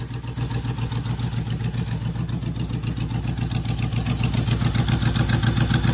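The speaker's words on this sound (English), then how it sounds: "Typical exhaust leak." A manual Land Rover Discovery 1 engine idling close by with an exhaust leak, a rough, rhythmic chuffing pulse, steady and loud throughout with no voices.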